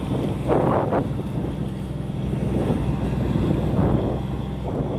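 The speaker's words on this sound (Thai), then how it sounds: "หัวเรือลากลำเดียวเอาอยู่ไหม เดี๋ยวเรามาชมกันนะคะ แต่ลมแรงนะคะช่วงนี้ วิ่งทวนกระแสน้ำแล้วก็ทวนกระแสลมด้วยค่ะ" A towing tugboat pushes against the current and a strong headwind. Its engine gives a steady low rumble, buffeted by heavy wind noise on the microphone, with water sloshing and occasional gusts.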